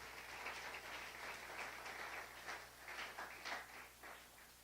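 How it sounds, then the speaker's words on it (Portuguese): A church congregation claps in uneven bursts that rise and fall, sounding faint and somewhat distant, with no talk over it. "Dá uma salva de palmas ao Senhor que Ele merece"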